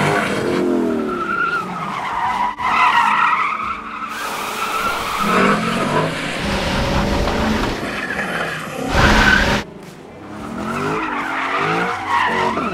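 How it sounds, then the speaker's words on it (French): A Lexus LC 500 with a V8 drifting, its tires squealing in long wavering skids over the revving engine, loud and close, with a few brief roaring bursts of throttle between slides. "Entre la glisse, le son du V8, les travers, bah tu penses qu'il y a un truc, mettre du gros gaz, et puis rupteur, et puis brûler de la gomme"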